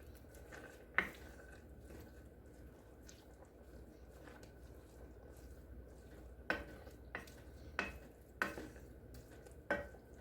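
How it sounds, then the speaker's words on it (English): Rice being stirred into Cajun beans in a pot, quiet and sparse, with a few soft wet scrapes and spoon taps against the pot over faint background. "We'll go ahead and stir that in."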